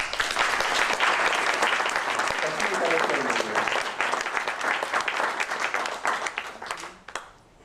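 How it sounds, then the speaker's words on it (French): A large crowd applauds steadily and loudly at a public gathering, dense clapping sustained for several seconds before tapering away, with a voice briefly audible underneath. "Saluons son courage et encourageons-la par nos applaudissements."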